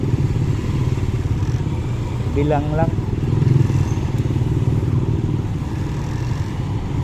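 Motorcycles rumble past on a busy city street with no bike lane, a constant loud engine drone with a passing rise in the middle while someone talks over it.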